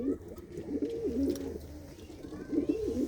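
A male black pigeon coos close by in repeated throaty, rolling phrases, with a pause between calls over a faint background hum.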